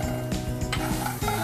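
Garlic sizzling in rendered bacon fat in a pan, a dense steady crackle with soft stirring scrapes and light utensil taps, close and without talk.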